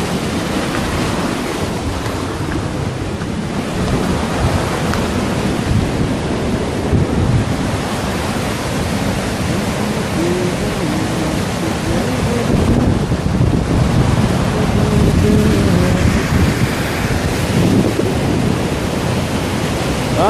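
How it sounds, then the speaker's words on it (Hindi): Heavy, steady rush of rain-swollen water pouring along a canal, a loud continuous roar with some wind buffeting the microphone throughout and no talking. "पानी ही पानी, हर तरफ बारिश हुई है, पानी काफ़ी ज़्यादा है।"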